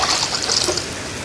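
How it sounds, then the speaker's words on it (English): Water pours steadily into a cooking pot to boil noodles, a close, continuous splashing trickle with no talk over it. "Add water, enough water to boil the noodles in."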